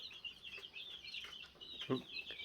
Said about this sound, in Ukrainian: тут півні вже починають один з одним щось тут вияснять що да як